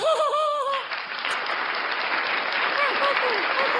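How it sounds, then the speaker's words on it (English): Sustained applause from a small group fills the space, steady and fairly loud, following a short spoken line at the start and with faint voices underneath. "Thank you for clapping, Princess Pretty Lady."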